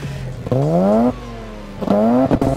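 A loud Mazda RX-7 FD3S sports car engine revs hard twice in quick succession, rising sharply in pitch each time before dropping back to a rumbling idle.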